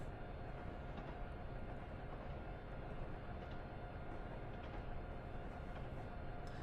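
A Boston & Albany freight train rolls down a Berkshire grade without braking, giving a steady, dense rumble with constant wheel and rail noise, and no pauses or voices.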